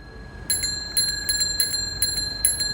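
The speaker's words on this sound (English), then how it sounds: "This is how a bicycle bell sounds here on Earth." A bicycle bell rings in a quick series of bright, clear metallic dings, about six strikes spaced roughly half a second apart, close and alone against a quiet background.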